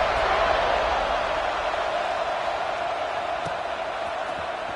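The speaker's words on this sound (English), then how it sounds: "this crowd is buzzing after that last score" A football stadium crowd buzzes after a score, a dense, steady roar of many voices that holds level throughout with no single voice standing out.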